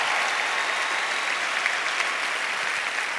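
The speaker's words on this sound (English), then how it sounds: "just by a quick round of applause" A large audience at a national skills conference opening ceremony breaks into dense, steady applause, a continuous roar of many hands clapping that holds level throughout.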